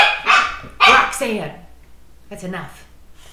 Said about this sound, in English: She's barking at the cat.